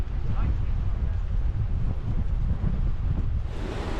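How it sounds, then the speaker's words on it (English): Steady wind roars and buffets across the microphone along an estuary trail near Exeter, Devon, with a broad continuous rush that may include gusts through trees; the noise stays loud and unbroken throughout. "It's got a bit windy. You can hear it in the trees."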